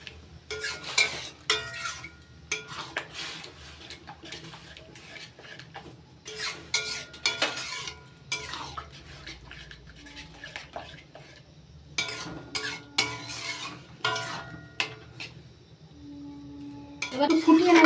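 A spoon scrapes and clinks in a pot as boiled dal and jute leaves are stirred together, giving soft, irregular bursts of stirring with quiet pauses between them.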